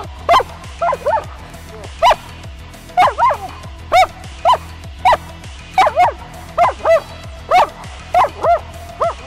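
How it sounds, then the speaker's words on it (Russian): A dog barks repeatedly in a steady, rhythmic series of loud yips and bow-wows, roughly one every half second, heard during a motorcycle ride in September with a low engine rumble underneath. "Собака."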